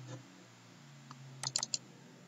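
Several quick computer mouse clicks on a download button in a quiet room, a tight cluster of sharp, close taps following a faint earlier click.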